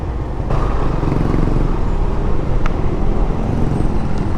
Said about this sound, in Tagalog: Tricycle U-turn.